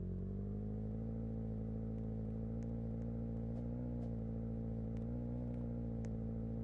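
A car drives along in Roblox Brookhaven, its steady engine drone holding a constant low hum with faint clicks on top, loud and continuous with no one talking.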